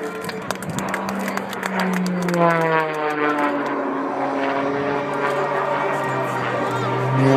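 Propeller aerobatic airplane at the Bagotville 2013 air show flying an inverted snap roll with a knife-edge turn, its engine drone rising and falling in pitch as it passes, loud and sustained, with a crowd and an announcer talking underneath.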